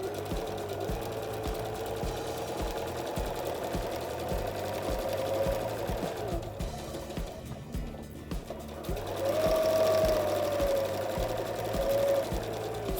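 A sewing machine stitches through fabric in steady rapid mechanical bursts, close up, with a brief pause partway and a louder run afterward, no talking.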